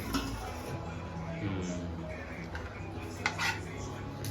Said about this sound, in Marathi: गॅस बंद केलेला आहे आणि आता ढाकण ठेवते